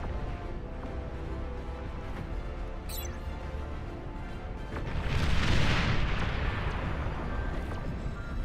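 Rocket explosions in the RTS game BAR, a dense rumbling barrage of blasts that swells louder midway, with a brief high whistle just before, continuous and fairly close.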